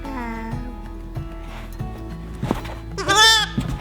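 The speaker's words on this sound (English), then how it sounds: "Baby lambs." Baby lambs bleat on a homestead, several quavering cries close by amid soft rustling and background noise, ending in one loud, high bleat.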